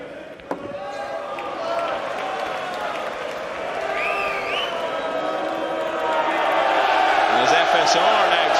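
Crowd cheering and applauding in a pool arena during a Mosconi Cup match, a steady roar of clapping and voices that builds louder toward the end, with a commentator talking over it.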